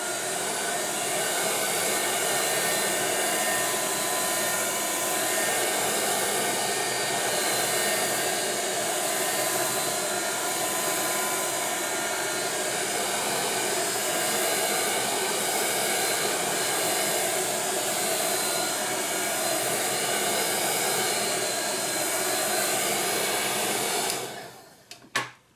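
A hair dryer blows steadily and loudly at close range while drying paint on an altered book journal page, running unbroken before switching off near the end.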